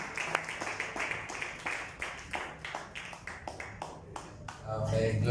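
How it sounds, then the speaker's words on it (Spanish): A church congregation claps along in a steady rhythm, fairly quiet and distant, with a voice speaking over the claps and the sound swelling slightly toward the end. "Denle un aplauso bien fuerte, aleluya"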